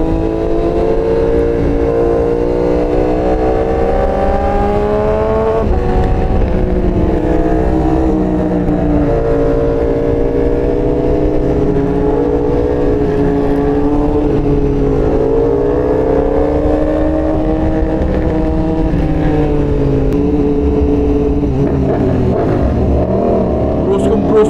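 A Ducati Panigale V4 motorcycle with an FM Projects full titanium exhaust revs on a ride, its engine note rising and falling loudly and continuously while someone talks over it.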